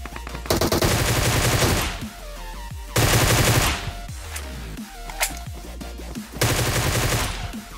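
Gunfire in the mobile battle royale game PUBG Mobile: loud sustained automatic bursts alternating with pauses filled by single cracking shots and distant reports.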